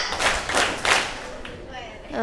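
Girls in an Islamic study class clap together in a tepuk rhythm game, three broad, fairly loud clap bursts in quick succession, with voices heard faintly afterward.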